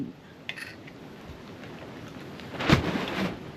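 Broad crinkly rustling of a plastic tarp flapping nearby, with a louder crackling surge toward the end over a constant background wash.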